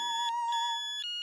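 A mobile phone rings with a steady electronic tone and short repeated chirps, close and clear, then cuts off near the end.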